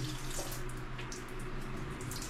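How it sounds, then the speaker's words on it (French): Shower tap running in a rustic bathroom in the Amazon, a steady close hiss of flowing water with no break throughout. "Il faut ouvrir l'eau."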